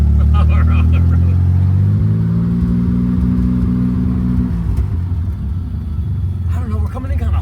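A crusty, Bondo-filled old Chevrolet Corvair drives on the road, its air-cooled engine droning and rumbling loudly up close with a rising then settling pitch, while people talk over it.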